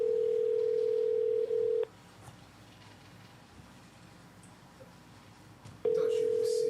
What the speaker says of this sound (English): Let me see if he's gonna answer the phone